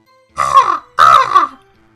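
Two loud, close, rasping crow-like caws from a person imitating a bird, each about half a second long with a short gap between them, and nothing else audible.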